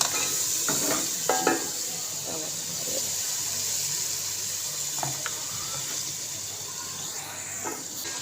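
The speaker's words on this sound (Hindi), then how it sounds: "तो ये देखिए जी आलू डाल दिए मैंने इसमें। तो अब इसको अच्छे से आलू को भूनेंगे पहले।" Potatoes fry with spinach masala in a pan for aloo palak, giving a constant soft sizzling hiss broken by a few light clinks and scrapes.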